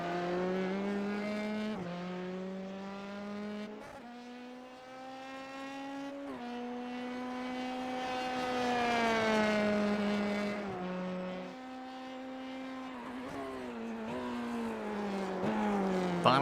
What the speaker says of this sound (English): Grover tries to battle the race car, heading through turn 5, heading off to turn number 6